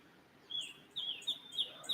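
Small birds chirp in short, bright bursts outdoors, four or five quick tweets spaced irregularly, faint and fairly distant with no talk over them.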